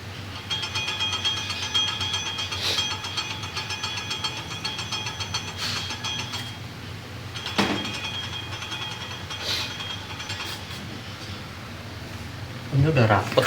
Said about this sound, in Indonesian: Bunyi ini, bunyi kaliper ya.